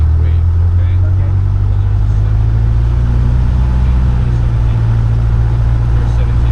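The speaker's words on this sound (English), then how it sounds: "So we're going to bring the throttle all the way up to a 1700 RPM while holding the brake." A simulated light aircraft engine in X-Plane, held on the brakes and throttled up to 1700 RPM, gives a steady loud droning hum with a low continuous tone throughout.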